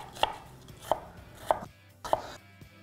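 Onions chopped on a board in four evenly spaced, crisp knife strikes at close range, with no talk.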